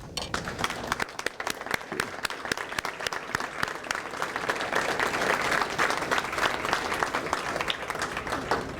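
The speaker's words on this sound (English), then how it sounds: "let us give you a round of applause" An audience at a Hall of Fame induction bursts into a round of applause, dense clapping that starts scattered and swells into a steady, sustained roar with faint crowd voices underneath.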